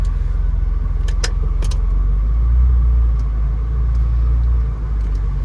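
A 1997 Porsche 993 Turbo S pulls away in first gear: a loud, steady low engine rumble close up, with a few light clicks and rattles from the cabin and no speech.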